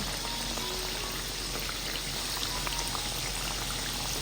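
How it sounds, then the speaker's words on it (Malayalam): Spoonfuls of snack batter fry in hot oil, giving a steady, dense crackling sizzle that stays even and moderately loud throughout, with no talking. "ഇതങ്ങ് എണ്ണയിലേക്ക് ഇട്ട് കൊടുക്കാം കുറച്ച് കുറച്ച് വീതം ഇട്ട് നമുക്ക് ഫ്രൈ ചെയ്തിട്ടെടുക്കാം"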